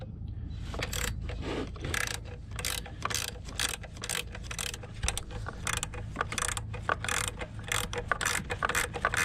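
A ratchet wrench clicks in quick repeated bursts while snugging a 12mm alternator bracket bolt on a car, close and crisp with short pauses between strokes.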